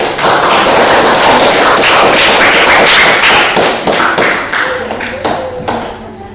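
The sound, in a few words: audience applause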